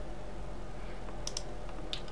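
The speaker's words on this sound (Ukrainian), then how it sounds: "Натискаємо, що ми там натискаємо, Alt на клавіатурі" A few quiet computer keyboard key presses click during Blender 3D modeling work, over a low steady background hum.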